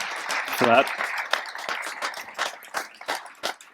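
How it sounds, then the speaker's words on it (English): An audience at a panel session claps in a short, light burst of applause, moderately close, with a brief word spoken over the start. "A big applause"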